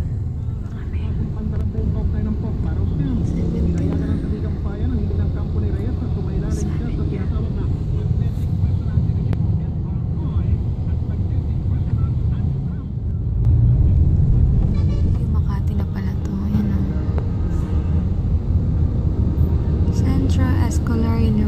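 Heavy road traffic in Makati makes a steady, dense low rumble of engines and passing vehicles that goes on without a break, with a swell partway through and scattered higher clanks and hiss over the drone.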